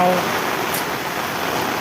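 Heavy rain pours down in a dense, steady broadband hiss, loud and close, continuous for the whole short stretch with no break.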